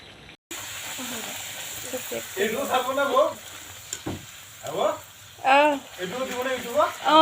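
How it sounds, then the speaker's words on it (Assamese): Water boils in a cooking pot while being heated for making dough, giving a steady, fairly close hiss and bubbling under a person talking. "এয়া আটা মাৰিবৰ কাৰণে পানী গৰম কৰি ল'লোঁ পূৰা উতলি আছে"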